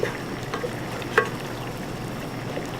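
Curry leaves sizzle and crackle in hot oil in a pan while being stirred for a South Indian chicken curry, a steady frying hiss with a few sharp pops and a brief spatter.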